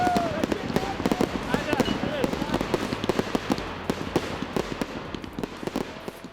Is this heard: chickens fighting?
no